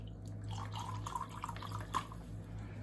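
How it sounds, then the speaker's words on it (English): Chicken stock is poured into a can for chicken and dumplings, a soft, quiet trickle with faint drips, ending in a brief louder knock. "We're gonna pour a little chicken stock in there."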